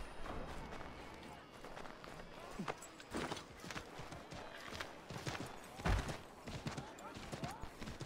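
Horse hooves in Assassin's Creed 3 Remastered, a fast run of thudding clip-clop beats over busy game ambience, moderately near and steady across the whole stretch.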